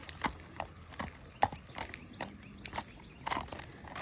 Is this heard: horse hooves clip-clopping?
yes